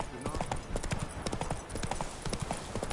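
Galloping hooves of Roach, a horse in the video game The Witcher 3, pound in a quick steady rhythm close up, with a voice speaking over them.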